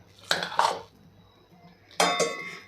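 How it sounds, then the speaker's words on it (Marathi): Dry sago pearls poured into a large mixer jar in a kitchen, giving two short rattling bursts of hard grains against the container with a quiet gap between them. "आता इथे मोठं मिक्सरचं भांडं घेतलेलं आहे आणि त्यामध्ये आपल्याला साबुदाणा"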